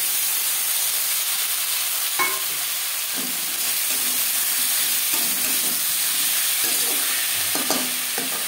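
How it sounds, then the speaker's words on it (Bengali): Onion, tomato, ginger paste and green chilli paste sizzle steadily in oil already used for frying fish, a close, constant hiss broken by occasional clicking stirs from a spoon. "মাছ ভেজে নেওয়া তেলে দিয়ে দেবো পেঁয়াজ কুচি, টমেটো, আদা বাটা, কাঁচা লঙ্কা বাটা।"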